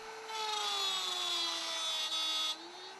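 A wood router cuts a mortise in several depth passes using plywood spacers, producing a steady high-pitched whine with a grinding cutting edge that rises as the bit bites and drops off near the end.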